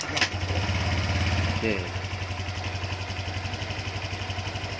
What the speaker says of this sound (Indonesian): Mesin kita hidupkan pakai kaki.